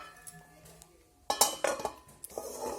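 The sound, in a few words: lid placed on cooking pot of kadhi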